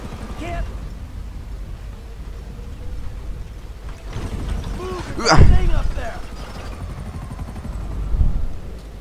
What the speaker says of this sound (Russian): О, вертолет какой!